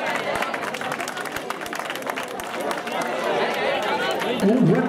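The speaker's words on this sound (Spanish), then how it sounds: "Un aplauso para la juventud." Crowd at a country footrace in Valdemierque clapping steadily, a dense patter of many hands mixed with chatter and a voice talking over it, moderately loud throughout.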